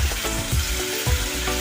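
Pav bhaji mixture sizzles loudly in a pan while being stirred, a dense close frying hiss with a few soft thudding scrapes of the spoon in quick succession, no voices.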